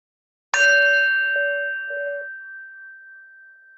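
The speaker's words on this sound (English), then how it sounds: "take in the sound of the bell, following it to the end." A single struck meditation bell for a gentle Kripalu yoga practice rings out once, clear and bright, then its pure tone fades slowly over several seconds in a quiet room.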